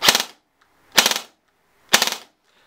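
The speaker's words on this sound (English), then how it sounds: "Right out the box, it'll shoot a 3-round burst." A Swiss Arms airsoft gun with a programmable burst mosfet fires three separate three-round bursts, each a quick, loud, close rattle about a second apart, with silence between and no talking.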